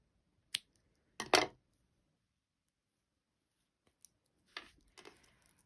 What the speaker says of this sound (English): now I'm gonna snip the last color